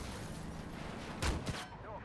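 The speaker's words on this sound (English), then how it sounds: "That little cannon's deadly." A small tank cannon fires in the Armored Warfare video game, two sharp booming blasts in quick succession over steady engine rumble and battle noise, with a voice talking.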